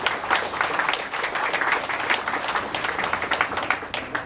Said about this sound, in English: So I'd like to give a round of applause for Mitchell